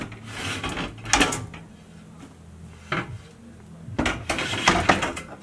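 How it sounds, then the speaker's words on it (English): A locked wooden snake tank is unlocked and its doors pulled open, giving close clicks, knocks and wooden sliding clunks in several bursts separated by short pauses. "I pull up the doors and it's in this tank here."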